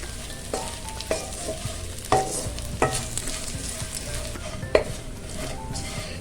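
Purple yam frying in a little oil until crispy, a continuous low sizzle with frequent scraping stirs and light clinks against the pan, close up with no voices.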